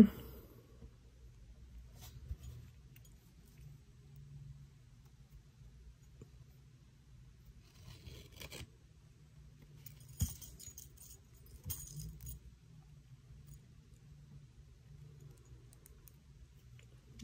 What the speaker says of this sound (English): I'm just gonna wire wrap it to my chain